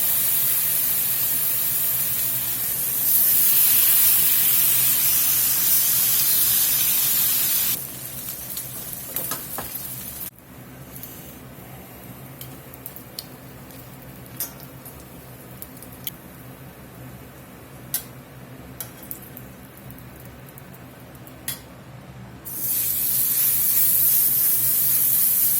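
Bacon strips laid onto a hot cooking surface for a Tennessee horseshoe burger, giving a loud steady sizzle that swells, eases to a lower crackling hiss with scattered pops, then rises again near the end.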